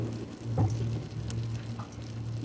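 Butter and a little oil sizzle in a hot pot, a faint, steady frying hiss with a soft stir or two, heard alone and close.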